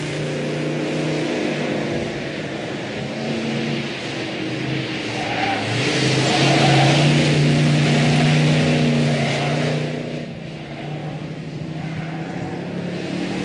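Heavy classic muscle car weaving through slalom pylons, its engine droning steadily and then swelling into a louder rev before easing off, close and with no voices.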